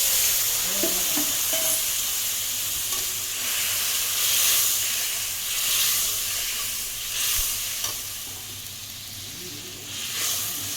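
A spiced potol (pointed gourd) mixture is tipped into hot oil in a wok and gives a loud, steady, close hissing sizzle with occasional stirring scrapes and no speech.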